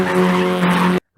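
A car drifting with its tires skidding and squealing continuously for about a second, loud and close, before stopping abruptly into silence.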